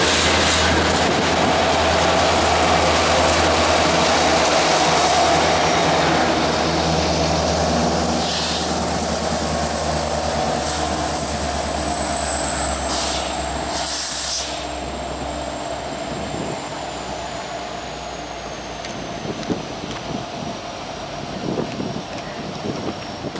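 Ethanol freight train passing Riley's Railhouse in Chesterton, Indiana, a loud continuous roar of rolling tank cars with a high wheel squeal and occasional clanks, easing slightly toward the end.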